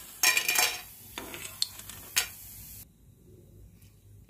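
Fried sago pearls are moved from a pan onto a plate, giving a few close metallic clinks and scraping taps of a spoon against cookware, in short clusters before a quiet stretch.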